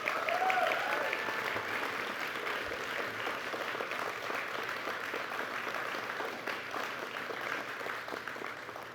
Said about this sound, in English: I think we could give them a round of applause as well.